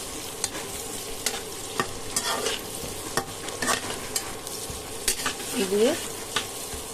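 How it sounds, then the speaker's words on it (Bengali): Chopped garlic fries in a pan for a mutton curry, a steady sizzle broken by frequent stirring scrapes and clinks, close up, with a brief spoken word at one point. "কয়েকটা রসুনের কোয়া কুচি করে দিয়ে দিলাম।"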